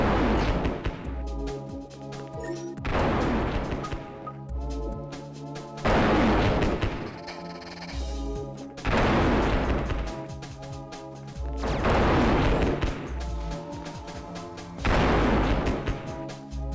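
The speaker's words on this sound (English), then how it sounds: "These explosions are so loud." Loud booming explosions from the video game Lode Runner 3D go off in a regular series, each a heavy crash with a ringing tail, about six blasts roughly two to three seconds apart.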